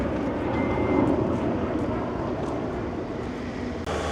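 A steady roar of a Lufthansa Airbus A320neo jet engine fills the air, broad and constant, with a faint tonal whine near the start and a brief click at the end.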